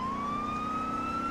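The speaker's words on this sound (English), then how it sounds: "Get the siren, Simpson." Police car siren from the video game Red County Roleplay: a single steady, rising electronic wail that sounds loud and close, running unbroken from start to finish with no talk over it.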